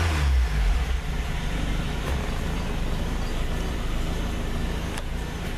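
1981 Honda Civic Wagon engine fitted with a Weber carburetor, running steadily with a broad continuous rumble after a brief louder rev at the start, no talking.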